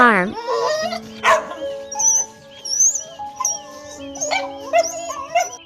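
Dogs on a farm bark in short, loud bursts mixed with whiny yips and whimpers, close by and spaced irregularly across several seconds.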